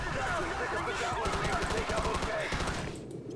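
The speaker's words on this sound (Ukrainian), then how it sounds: "Так, хто там стріляє?" Rapid bursts of gunfire in Call of Duty 4: Modern Warfare crackle continuously, automatic weapons firing in quick succession before the noise drops off near the end.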